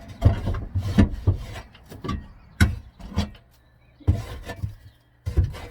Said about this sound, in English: It just scrapes right off.